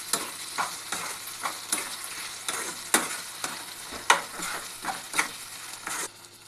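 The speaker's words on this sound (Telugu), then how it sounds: "టమాటాలు యాడ్ చేసుకుందాం యాడ్ చేసుకున్న తర్వాత దీన్ని కూడా ఫ్రై చేద్దాం" Tomatoes frying with mutton pieces in a pan, a continuous sizzle broken by repeated scraping strokes of a spoon stirring the curry at a steady, uneven rhythm, close up.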